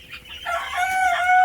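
A rooster on an Australorp chicken farm in Pakistan crows once, close and loud, its harmonic call rising and holding steady to the end with no talking.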